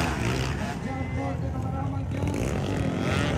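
Enduro motocross motorcycles racing in a local final heat at a Maramag motocross competition, engines droning loud and steady throughout, with an excited commentator talking over the noise.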